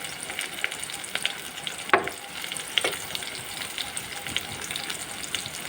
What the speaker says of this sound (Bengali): আর এখন অপেক্ষা করবো পেঁয়াজটা কষানোর জন্য ভালো করে আমি কষিয়ে নিব পেঁয়াজটা